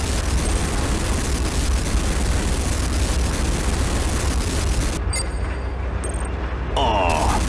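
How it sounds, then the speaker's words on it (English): A GDI Tiberium Refinery building blowing up in the game Command & Conquer Renegade, a sustained, loud, dense roar of explosion and rumbling debris that fills the clip, with a brief electronic tone near the end. "GDI Tiberium Refinery destroyed."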